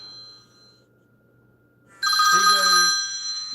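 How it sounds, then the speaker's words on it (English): A telephone rings loudly and suddenly during an archery shop talk, a bright repeating electronic ringtone cutting in over a low background hum, with faint speech nearby. "Why is that phone ringing?"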